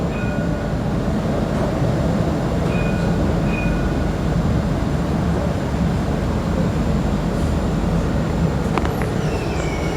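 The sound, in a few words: Dubai tram riding, approaching Marina stop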